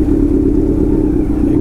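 Motorbikes idle and rumble in heavy weekend traffic at the Srisailam entry toll gate, a close, steady low engine drone with a faint clatter and no break.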